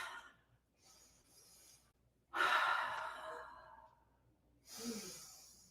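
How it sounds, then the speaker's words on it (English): Slow, audible breaths during a seated yoga twist: a soft inhale, then a long, airy exhale that fades out, followed by another breath in, close and quiet with no talking. "Inhale when you're facing forward. Exhale as you twist."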